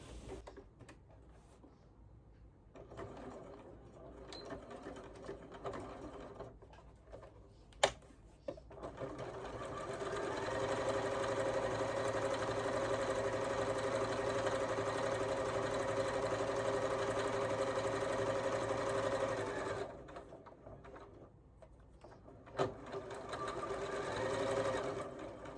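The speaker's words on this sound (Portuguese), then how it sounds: "eu vou fazer uma costura aqui de uma ponta a outra pra poder fechar esse cordão" A domestic sewing machine runs steadily for about ten seconds, stitching a fabric cord closed from end to end, with quieter handling before and after the run.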